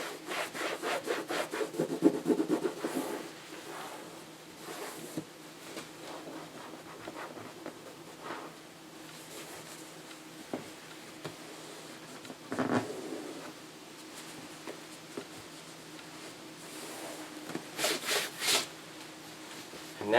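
A towel rubs and wipes dirt off a vinyl boat seat in soft, intermittent scrubbing strokes, close and fairly quiet, with a few louder bursts of rubbing between pauses.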